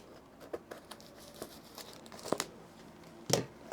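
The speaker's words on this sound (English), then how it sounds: "it's got a shrink wrap around it, so I'll have to cut through that a little bit here" Shrink wrap around an SD card package is cut through, a few short crackling plastic tears and crinkles up close, irregularly spaced, the last one sharpest.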